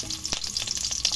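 Garlic fries in hot oil in a pan as chicken curry begins, with a close, steady sizzle broken by quick stirring scrapes.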